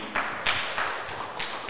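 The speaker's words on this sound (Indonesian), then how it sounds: "Ini kayaknya layak untuk diberi tepuk tangan lagi yang meriah satu kali lagi" School audience at an Islamic Ramadan speech competition giving another round of applause, a soft, steady spread of clapping from a crowd with a few louder taps, fairly distant.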